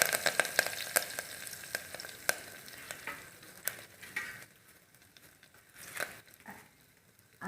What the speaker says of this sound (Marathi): फोडणी उडाली आता आपण कढीपत्ता टाकू,